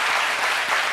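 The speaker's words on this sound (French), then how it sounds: "il mérite vos applaudissements" A studio audience at the French-language talk show C'MIDI gives dense, continuous applause that stays loud and even throughout.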